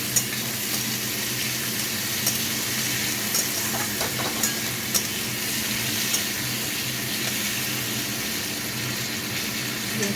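Spices and salt frying in a pan give a loud, continuous sizzle, with small stirring knocks and scrapes scattered through it and no talking.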